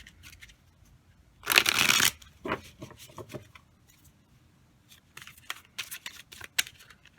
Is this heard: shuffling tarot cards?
yes